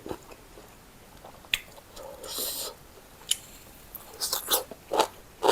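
Crispy grilled Isan sausage is chewed close to the mic, with a run of sharp crunchy bites and wet chewing that comes in uneven clusters against a quiet background.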